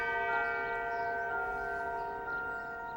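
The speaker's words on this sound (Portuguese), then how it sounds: "ficamos presos aos carrilhões dos relógios manufaturados" A manufactured clock chime rings as a sustained bell tone, steady and moderately loud, with rich overtones that decay slowly over a few seconds, heard alone without voices.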